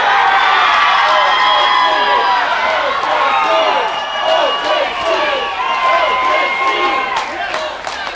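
Loud, dense crowd cheering and shouting at a pickleball match on an NPL center court, a sustained roar with scattered whoops and claps that swells and dips slightly across the stretch, with no clear speech over it.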